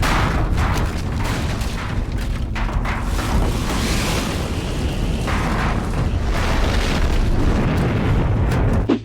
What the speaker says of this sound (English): causing the barn to explode